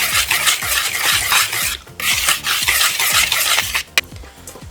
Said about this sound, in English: Now I'm just going to whisk and combine these together.